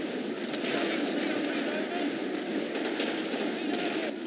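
A flamethrower in the Killing Floor video game roars as one steady, dense hiss of fire that runs unbroken throughout, with voices faintly underneath.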